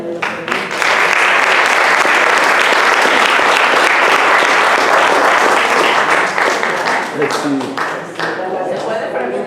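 An audience breaks into sustained applause at a community family-history event, dense clapping starting after a brief moment and holding loud for several seconds before tapering slightly near the end.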